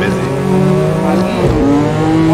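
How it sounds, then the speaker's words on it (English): A racing car in a video game roars past with high revving engine tones, a pitch dip and tire squeal, loud and continuous, with a faint voice underneath. "That car is fast."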